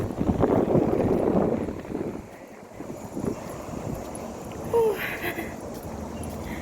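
Blustery wind buffeting the microphone on a hot day in Shatin, Hong Kong, strongest at the start then easing, with a faint squeak and distant outdoor noise underneath.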